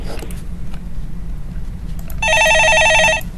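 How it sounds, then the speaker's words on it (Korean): A telephone rings with a steady electronic double-tone pattern, loud and close, starting partway through after a stretch of quiet room noise, in a stock-market call-in broadcast. "예, 전화 받아보겠습니다."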